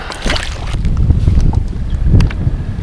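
Gusty wind buffets the microphone in low, rumbling bursts while fishing at Lake Manchester, with faint splashes of water underneath.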